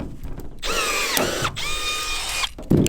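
Power drill boring out a rivet during a school bus conversion, loud and close, with two sustained whining runs separated by brief pauses and a clunk at the end.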